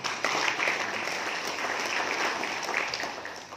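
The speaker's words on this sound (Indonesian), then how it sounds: "Tepuk tangan dulu." An audience at a Hanura party inauguration in Papua applauds a regent's speech, a steady dense wash of clapping from a sizable crowd, fairly distant and even throughout.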